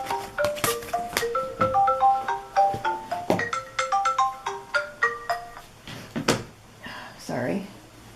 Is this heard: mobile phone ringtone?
yes